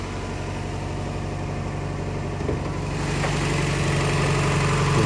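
The 22RE four-cylinder engine of a 1992 Toyota 4x4 pickup truck idles steadily with a low, even hum and a slight exhaust rattle, heard close and alone, rising a little in level partway through.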